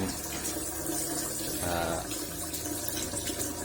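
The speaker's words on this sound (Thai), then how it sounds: "เดี๋ยวเราลองเปิดน้ำดูครับ" Water runs from a homemade faucet built from scrap materials, a soft, steady splashing stream that continues evenly throughout at a moderate distance.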